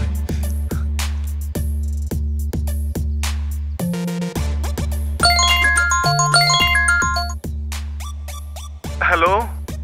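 A mobile phone ringtone plays in a Punjabi short film, a loud melodic electronic tune over a pulsing beat that runs continuously for nearly ten seconds with brief breaks.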